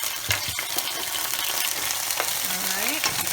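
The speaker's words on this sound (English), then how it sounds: "While these are sizzling, I like to add my ginger garlic paste." Eggplant frying in a pan with ginger garlic paste, a steady close sizzle with stirring scrapes and small pops, with no talk.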